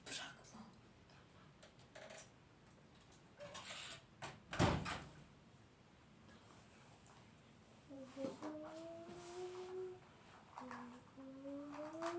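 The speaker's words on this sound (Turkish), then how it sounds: "Şu kapıyı aç." A door is opened with a few clicks and a sharp latch or handle knock in the middle, amid household shuffling; people talk throughout.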